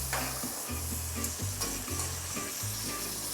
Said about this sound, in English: They should still sizzle because your pan's very hot